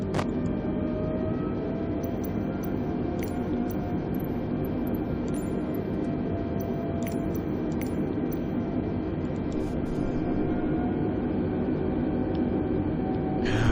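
Airbus A320neo airliner taxiing to the gate after a flight from La Palma to Marrakech, heard as a steady broadband engine and cabin rumble with a faint whine, constant and unbroken throughout.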